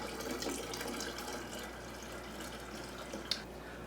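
Water runs steadily from a tap, diluting sweetened tea for kombucha, a continuous hiss with a faint drip near the end and no talk.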